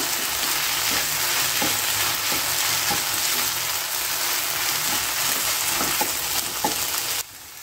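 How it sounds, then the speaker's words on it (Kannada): Okra fries in a pan for a palya, a loud dense sizzle with regular soft scrapes and knocks of stirring, the hiss dropping abruptly near the end, no voices. "ಒಂದು 5 ನಿಮಿಷ ಚೆನ್ನಾಗಿ ಹೀಗೆ ಫ್ರೈ ಮಾಡ್ಕೋಬೇಕು."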